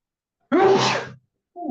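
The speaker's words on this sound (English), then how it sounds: "oh, I got to sneeze in a second" A person lets out one loud, sharp sneeze lasting about half a second, followed after a short pause by a brief, quieter vocal sound.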